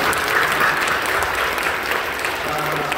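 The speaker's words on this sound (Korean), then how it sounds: "박수로" A church congregation applauds during a Christmas Eve Friday night worship service at Incheon Full Gospel Church, a dense, steady wash of clapping that holds at an even level throughout.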